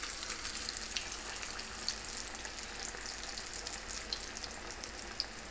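Jackfruit vadas fry in hot oil with a constant, even hiss-and-bubble sizzle, close to the pan, broken by a few sharp little pops. No one speaks.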